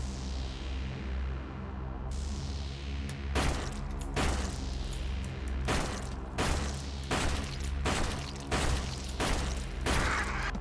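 Gunfire from the player's weapon in the horror shooter Ghost Ripper, a run of sharp, loud shots spaced irregularly over a steady droning background and mechanical hum, with no voices.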